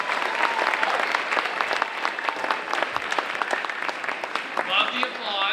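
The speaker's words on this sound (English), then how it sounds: "Love the applause." Audience applause fills a school's 2019 awards assembly, steady dense clapping throughout with excited high-pitched cheers and squeals rising near the end.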